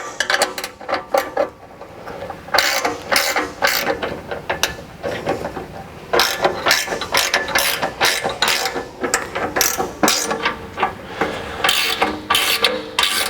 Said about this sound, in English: Just finish tightening all these bolts so that they're on.